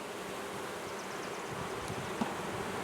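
A small beehive whose queen survived the cold hums with a dense, steady buzz of bees, continuous and fairly close, with a light rustle of wind.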